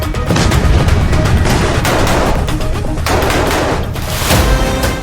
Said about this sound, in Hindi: लेकिन पहले देखिए रफा फ्रंट पर बारूदी तांडव का लेवल